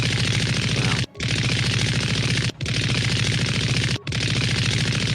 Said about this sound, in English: Why do you have a machine gun? Why are you shooting at my feet?